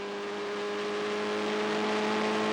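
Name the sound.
race car engine revving at top revs in 4th gear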